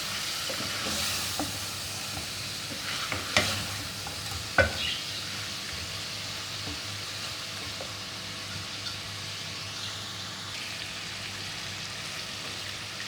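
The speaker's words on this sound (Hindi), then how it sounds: "थोड़ा सा पानी डालेंगे, बस। पूरा कप, आधा कप नहीं डालना है, बस थोड़ा सा डालना है। मसाले हमारे अच्छे से इसके अंदर भून जाएं।" Spices roasting in a pan for a mutton dish after a splash of water is added, giving a soft, even sizzle and steam hiss with occasional stirring scrapes, close and quiet, with no speech.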